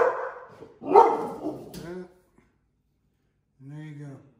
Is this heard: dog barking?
yes